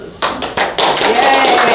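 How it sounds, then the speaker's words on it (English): An audience at an Audubon Society meeting bursts into applause. A few sharp claps come first, then the clapping swells into dense, loud, sustained applause close by. "Now, at this point, we're going to have the applause."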